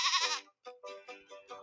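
A storybook sound-effect goat bleats: one long wavering bleat, then a quick series of shorter stuttering bleats, close and alone.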